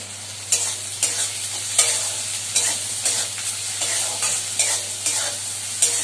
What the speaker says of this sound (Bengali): পেঁয়াজগুলোকে লাল লাল করে ভেজে নিচ্ছি